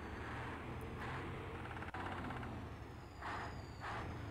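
Truck engine in the mobile game Heavy Tires grinding as it climbs a slope, a steady low drone with a few brief hiss bursts and a sharp click midway, alone with no talk.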